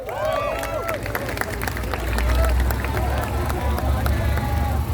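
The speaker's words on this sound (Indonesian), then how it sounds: "Tepuk tangan untuk kita semua, kawan-kawan." Student protest crowd outside a parliament building applauding together, a loud continuous wash of clapping and crowd noise with shouts and babble over a heavy low rumble.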